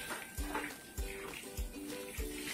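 Water being added to a mutton and ridge gourd curry in a pot, with soft, evenly spaced splashes and sloshes repeating about every half second at low volume.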